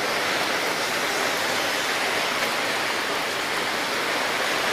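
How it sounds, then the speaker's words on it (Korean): Heavy rain pours down on a street at night, a dense, loud and steady hiss of water with no let-up and no voices over it. "갑자기 비 겁나 많이 내리네"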